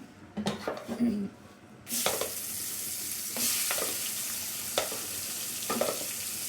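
Thick blended chickpea-lentil paste for halwa sizzles and spits in a hot pan, with a few stirring scrapes of a spoon; the sizzle steadies into a continuous hiss.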